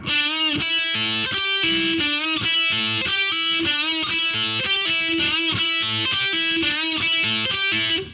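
A distorted electric guitar plays a heavy metal lick slowly, a steady repeating pattern of pull-off notes that runs continuously and loud, with no talking over it.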